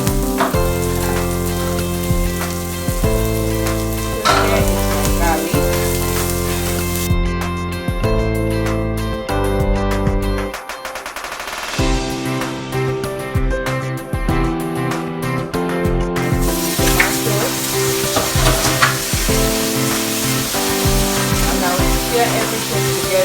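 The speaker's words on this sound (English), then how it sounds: "Now I think it's becoming tender, and I will add in my garlic." Garlic sizzling as it fries in a pan with softened vegetables for a simple spaghetti dinner, a steady hiss running under loud, continuous background music.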